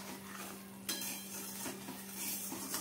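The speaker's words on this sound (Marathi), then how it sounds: "अगदी फटफट हात चालवत आपल्याला हा कूट मिक्स करायचा आहे" Ground peanut powder is stirred quickly into hot sugar syrup in a metal pan for peanut barfi, giving steady scraping and clinking of a spoon against the pan with a faint background hum and no talk.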